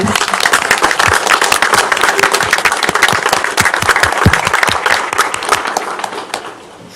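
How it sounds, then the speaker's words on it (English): Applause breaks out at a city commission meeting for Officer Castillo, a dense burst of many hands clapping close by that holds steady for several seconds before thinning out and stopping. "Can we all give Officer Castillo another round of applause, please?"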